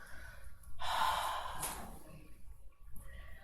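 A deep, breathy exhale comes in a yoga forward fold, one clear push of air about a second long between quieter breaths.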